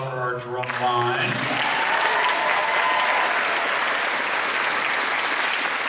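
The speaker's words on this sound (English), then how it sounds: "one more round of applause for our drum line" A school concert audience gives the RHS Kiltie Band drum line a round of applause, with dense, steady clapping from a crowd that swells in right after a voice speaks at the start.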